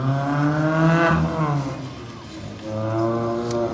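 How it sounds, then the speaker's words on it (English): A Mazda Miata drives an autocross course, its engine revving up, easing off, then climbing again in a close, buzzy drone. "Comes another Miata."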